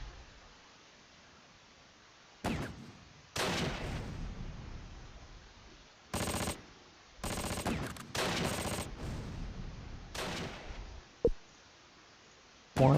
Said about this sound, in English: I think it's an MG34 perhaps?